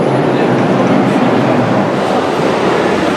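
A New York City number 4 subway train bound for Grand Central rumbles along as a steady, loud roar of wheels and car noise, heard from inside the air-conditioned car with no break.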